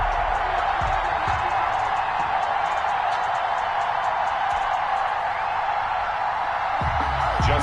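A Baltimore stadium crowd in an NFL football video game cheers the Ravens and Seahawks at M&T Bank Stadium, a steady, loud roar of crowd noise filling the whole stretch.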